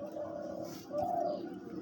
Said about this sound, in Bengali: দেখেন ঝুমুর দেয় কীরকম